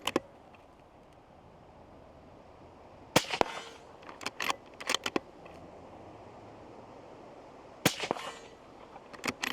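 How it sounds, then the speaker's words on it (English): Gunshots fired at hanging and ground-mounted steel targets outdoors: sharp, loud cracks with ringing metallic impacts, in a cluster of quick shots, then another pair a few seconds later, over faint background noise. "So I'm gonna put 2 rounds on the hanging one and 2 rounds on the one on the ground."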